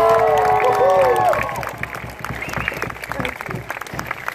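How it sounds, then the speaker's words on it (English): Crowd applause and cheering at a luau in Hawaii fading out, with loud whistles and tonal cries early, then scattered clapping continuing as the noise settles. "Come on, let's give them all a big round of applause."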